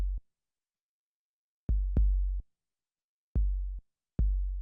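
Processed 808 kick with a bright pull-take EQ setting, four deep booming hits spaced irregularly, each with a sharp attack and a short sustained low tail, alone in an indie rock mix.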